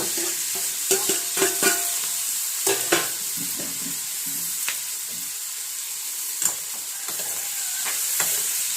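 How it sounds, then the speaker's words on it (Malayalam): Curry with turmeric powder is stirred in a pan over a constant bright sizzle, with occasional scraping and clinking strokes of the spoon against the pan close by and no voices. "നല്ലപോലെ ഇളക്കി യോജിപ്പിച്ച്"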